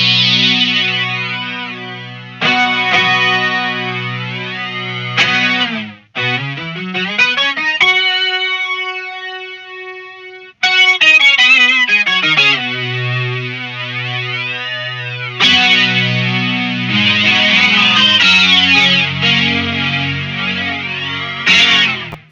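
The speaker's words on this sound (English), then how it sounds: "as we turn that depth down, it's going to kind of envelope in and out of the full range of that sound" A Boss SY-1 guitar synthesizer with its depth turned down plays a series of bright, buzzy synth notes and chords that swell and pulse in and out, with pauses and sustained tones, loud and close.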